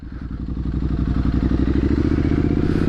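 A Triumph SS 900 motorcycle is ridden with its engine pulsing in a steady, loud, close throb that builds slightly over a few seconds, with mechanical clatter and no talk.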